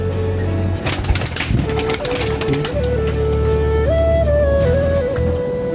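Pigeons coo softly amid a burst of wing flapping and fluttering, close by, with a steady low hum underneath.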